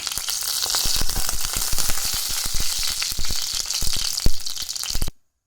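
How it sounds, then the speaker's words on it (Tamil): Cinnamon, cardamom, fennel and stone flower frying in hot oil, crackling with dense, rapid pops and sizzle that cut off abruptly near the end. "பொரிய ஆரம்பிச்சிருச்சு"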